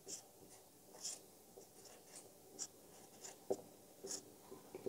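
A pen scratches out a geometry solution on paper, soft short strokes repeating in an uneven rhythm, faint and close, with no voice.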